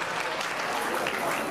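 A room full of people applauds in a dense, even burst of clapping, loud and close throughout this brief moment.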